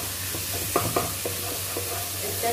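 A tablespoon of ginger garlic paste sizzles in a pan over softened vegetables while a spoon stirs it. The frying hiss is faint and steady under a low hum, and a few soft scraping clinks come from the stirring.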